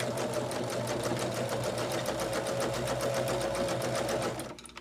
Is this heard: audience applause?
no